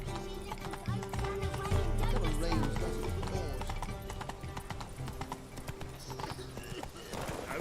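Roach the horse from The Witcher 3 gallops with rapid, loud hoofbeats in a driving rhythm, over game music and a brief whinny, while a voice speaks at times.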